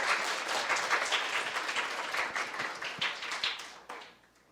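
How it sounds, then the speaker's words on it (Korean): An audience at a brain science lecture event applauds to welcome a speaker, a full, lively round of clapping that gradually thins and fades out toward the end. "노경철 박사님을 큰 박수로 맞이해 주시기 바랍니다"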